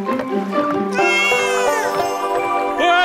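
A cartoon cat meows loudly in a drawn-out, wavering cry with several rising and falling pitch sweeps, set against a busy musical backing in a Malay comedy compilation.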